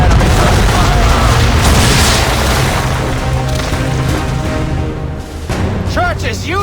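Booming ship cannon fire rolls through a naval battle in Assassin's Creed 3, a dense, continuous roar of blasts and crashing water with shouted voices heard at points.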